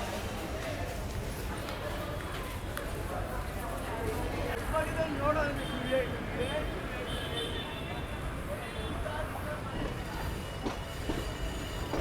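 A passenger train pulling out of a station on the Mysore to Chamarajanagar line gives a steady rolling rumble with some wheel squeal, while a person talks over it.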